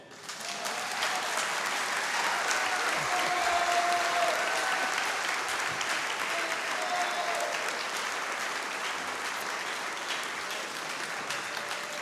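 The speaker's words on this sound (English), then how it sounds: "Now you may applaud." Sustained audience applause fills a hall at the close of a New Orleans mayoral candidate forum, a dense, steady wash of many hands clapping at full strength for about twelve seconds with no talk over it.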